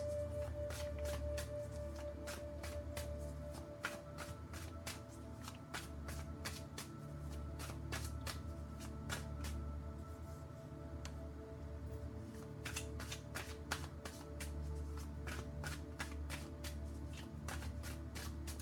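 A steady run of soft, rhythmic tarot card shuffling clicks continues for a long stretch over a low background hum, quiet and close.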